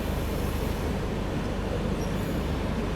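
The Haridwar–LTT Mumbai AC Express crossing alongside a moving train near Sahibabad, heard as a steady, close, broadband rumble and rattle of rolling coaches with no break.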